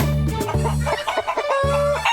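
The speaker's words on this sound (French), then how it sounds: "Elles caquettent toute la journée dans la drôle de ferme de Papy Henri" Hens cluck close by in quick, repeated bursts, their short calls overlapping in a busy barnyard chatter.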